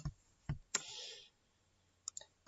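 A computer mouse gives a few faint, sharp clicks in a quiet room, spaced irregularly, with one slightly longer rustle after the early clicks.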